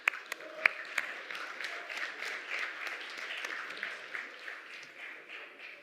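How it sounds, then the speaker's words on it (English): Audience applause in a conference hall at a staking industry summit, a soft, distant spatter of clapping that starts with a few sharp claps and settles into a steady, fairly quiet round. "I think everyone in this room deserves a round of applause for that"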